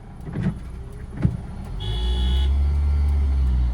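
A car pulls away gently in low gear on light throttle, with a few cabin knocks early on. The engine hum then rises into a steady, close, low drone.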